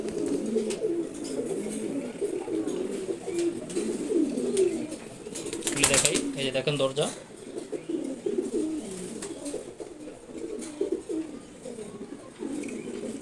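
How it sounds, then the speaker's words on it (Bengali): Pigeons coo steadily inside a new cage for male Homa, Giribaz and red checkered birds, soft overlapping low coos running throughout, with a brief rustle midway and someone speaking briefly over them. "নর কবুতর সবগুলো এখানে রাখছি হুমা কবুতর গিরিবাস রেড চেকার্ড"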